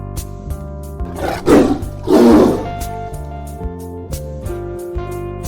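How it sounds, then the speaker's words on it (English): Cartoon-style tiger roar in a children's alphabet drawing lesson, two swelling roars about a second apart rising over a steady backing music bed, loud and close with no talking. "T for tiger."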